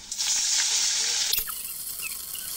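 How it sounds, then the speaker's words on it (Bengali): A small amount of water poured into a frying pan of hot oil with fried onion and green chilli, a broad rushing hiss for about a second that cuts off into a quieter sputtering sizzle. "এখন দিয়ে দিচ্ছি সামান্য পরিমাণ পানি।"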